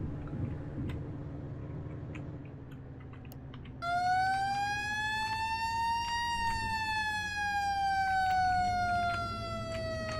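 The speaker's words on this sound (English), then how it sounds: "We'll turn our sirens on to get through the intersections." A fire truck siren in the Flashing Lights video game starts partway through and wails loudly with a slow rising and falling tone over a low engine hum, with faint keyboard clicks before it.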